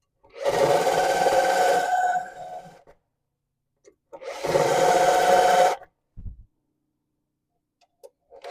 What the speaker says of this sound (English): this little hole cutter cuts around the spot weld